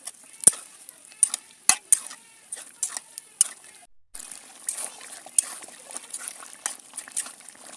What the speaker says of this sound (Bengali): আমি এখন এর ভিতর দিয়ে দেব ভেজে রাখা গোশ। এই গোশ দিয়ে আবার ভালো করে কষিয়ে নেব